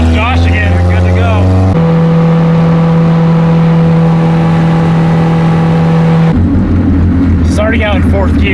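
A 450whp Honda car pulls away in 4th gear with a loud, strained engine drone that holds a steady low pitch, then rises as it revs. The sound is very close and saturated, and a voice talks briefly over the end.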